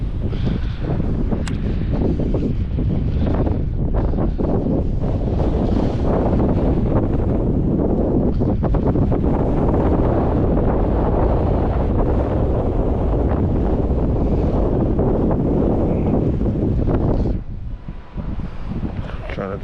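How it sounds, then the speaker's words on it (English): Strong wind blows steadily outdoors, buffeting the microphone with a loud, continuous low rumble for nearly the whole stretch before easing slightly near the end. "Wind's blowing in that direction to my left"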